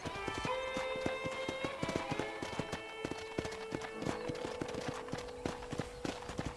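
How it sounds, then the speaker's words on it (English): Horse hooves clip-clop at a steady walking pace in the Red Dead Redemption video game, with game music and ambience underneath throughout. "let's see if you can still ride a horse"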